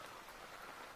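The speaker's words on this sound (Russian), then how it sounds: "В принципе, и сейчас льет." Heavy rain pouring on the Amyl River in the taiga near a cabin, a soft, dense, steady hiss of falling water, faint and continuous with no voices.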